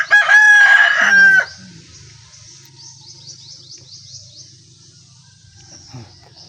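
A rooster crows loudly and close at the start, followed by quieter clucking and chirping from chickens in the background.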